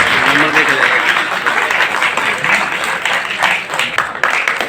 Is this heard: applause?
yes